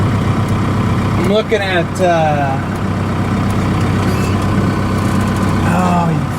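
A 4BT Cummins diesel-swapped Ford F150 drones loudly from inside the cab while driving, a steady low rumble that keeps going as someone talks over it.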